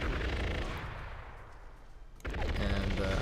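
Rapid gunfire from Gatling turrets in the tower-defense game Fieldrunners 2, a dense continuous rattle under other game effects that thins out briefly, then resumes loudly after a sharp return.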